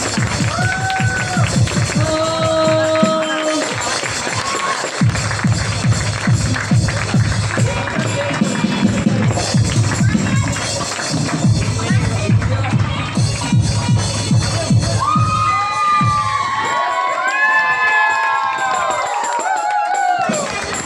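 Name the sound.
loud applause and cheering at a church wedding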